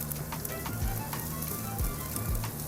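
Rib eye steak sizzles and crackles steadily on a cheap $20 grill during basting, with close, continuous frying and a few scraping taps, alone without speech.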